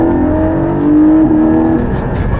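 Porsche 718 Cayman engine wailing hard toward the redline, a loud, steady high-revving tone that climbs slightly then holds, heard close with no voices.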